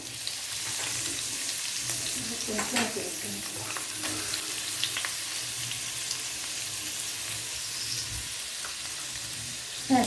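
Steady, loud sizzling of tempering spices frying in hot oil, a continuous crackling hiss throughout with occasional stirring clicks, while making puffed-rice uggani.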